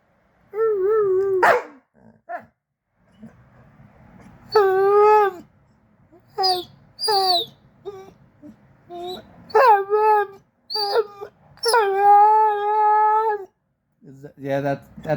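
A dog barks, whines and whimpers in a string of loud, close vocal bursts, with some quieter growly stretches between them and a person speaking in the background.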